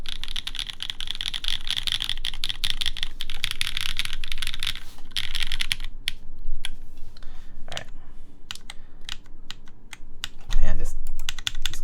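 Dense, steady clatter of mechanical key presses on a Keycult 1/60 keyboard, fast continuous typing that thins into scattered individual clicks and a louder thump near the end, with faint talk underneath.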